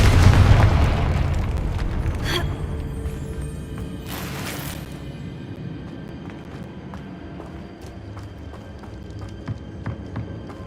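A Confringo blasting spell goes off in Hogwarts Legacy, a loud booming burst up front that rolls into a long rumbling decay, with fainter pops and crackles scattered through the fading tail.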